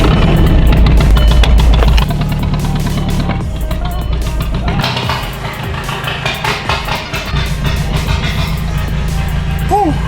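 A Volkswagen TDI car with a recently repaired snapped control arm rolls into a garage, its engine note loud and near at first, then settling into a lower idle rumble.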